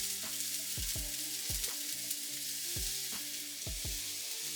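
Garlic sizzles and fries in a pan with charred vegetables, a steady close crackle broken by regular scraping stirs.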